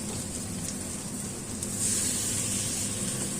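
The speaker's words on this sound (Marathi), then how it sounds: "आता आपण त्यामध्ये एक एक जे आपले स्टफ बोंबील आहेत ते ॲड करते मी" Stuffed Bombay duck fish frying in a pan on a low flame, giving a steady hissing sizzle like light rain that swells slightly louder partway through, with no talking.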